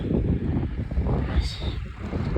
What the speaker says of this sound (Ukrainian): Я вибачаю, що сильний вітер.